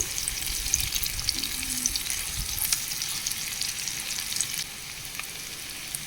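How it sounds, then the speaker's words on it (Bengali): Chopped onions and a dried red chili frying in hot oil, giving a steady, close, even sizzle that stays constant, then drops slightly quieter near the end. "পেঁয়াজটা হালকা করে ভেজে নেব।"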